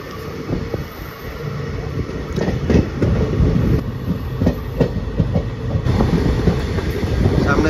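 Passenger train from Sealdah on the Burdwan–Durgapur line running at high speed, with a steady loud rumble and rattling wheel clatter throughout, with no talking.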